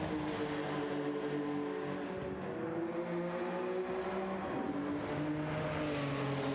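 Race cars circuit a track in a sim racing game, Corolla Cup and Lamborghini Trophy cars at Catalunya, their engines droning and shifting pitch steadily with layered revs throughout, no voices over them.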